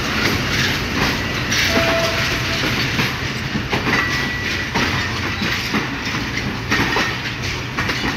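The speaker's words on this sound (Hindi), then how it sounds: "तो ये लोकोमोटिव किसी ट्रेन को लेकर आया 10U20, तो अब वाशिंग लाइन की तरफ जा रहा है।" Locomotive moving toward the washing line at Lahore station, a steady loud rumble of wheels on rails with faint clicking and brief high squeals, continuous and fairly close.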